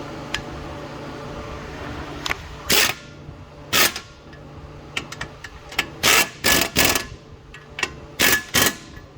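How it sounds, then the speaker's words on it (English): Sharp metallic clicks and ratcheting bursts of a size 19 wrench tightening nuts on the lower ball joint of a 2011 Toyota Sienna AWD, coming in irregular loud clusters close to the microphone. "We're going to use a size 19 to secure these nuts down."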